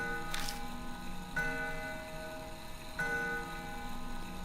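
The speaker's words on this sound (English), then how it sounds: "the sharp sound of a bell breaks the silence" A clock bell in the game Death Mark rings out three times at a slow, even pace, each strike a sharp metallic chime with a ringing tail, heard alone in a quiet setting.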